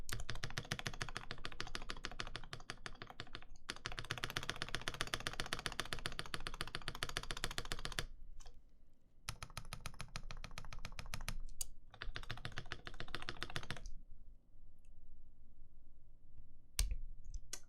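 Steady, fast typing on a mechanical keyboard fitted with NovelKey Cream switches, dense clicky keystrokes filling most of the stretch with a few brief pauses, close and alone without talk.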